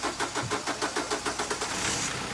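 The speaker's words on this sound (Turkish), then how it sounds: "Evet şimdi arabayı bir çalıştıralım." A Ford Connect with a misfire fault cranks slowly, the starter churning in about a dozen even rhythmic pulses before the engine catches into a steady running note.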